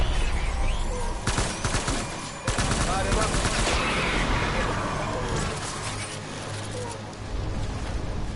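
Sustained gunfire in the video game Death Stranding: loud, dense automatic shots crackling near and far over several seconds, with voices speaking over the shooting.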